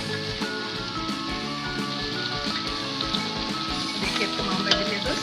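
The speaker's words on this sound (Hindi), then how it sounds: "और हम इनको अच्छी तरह से मिक्स करेंगे।" Macaroni and mixed vegetables being stirred together in a large pot, a steady wet sizzling, crackling texture close by that runs on without a break.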